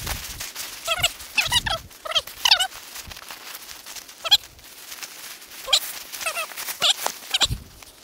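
A dog whimpers and yelps outdoors at a tent campsite, a string of short high-pitched whines in uneven bursts with quiet gaps between them.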